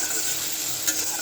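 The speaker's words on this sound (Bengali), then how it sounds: "পেঁয়াজটা দিয়ে দেবো। পেঁয়াজটা ভাজা হতে থাকুক।" Onion frying in a pan on a home stove, a steady soft sizzle with faint stirring, brief and fairly quiet with no voices.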